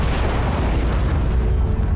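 A weapon fires in the underwater game AquaNox, heard as a sustained low rumbling boom that fills the whole moment, with a couple of faint higher whistling tones passing over it and no talk.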